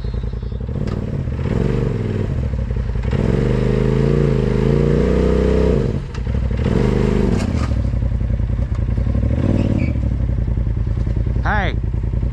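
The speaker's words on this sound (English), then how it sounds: "You're stuck on your skid plate. You're bellied out." An off-road vehicle on Windrock's Trail 97 near Devil's Elbow sits bellied out on its skid plate, its engine droning and revving loudly and continuously with scraping and clattering, and a voice talks over it.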